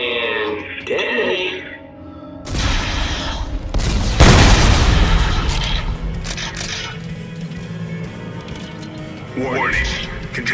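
Detonating explosives in Dead Space 3 set off a loud, sudden blast with a rumbling low tail that fades over several seconds, and a voice speaks over it.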